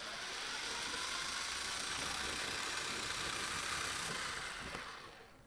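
A motorized Takara Beyblade Prototype Nemesis spins in a stadium with a steady, dense, high whirring hum that holds evenly for several seconds, then fades as it slows, close and without speech.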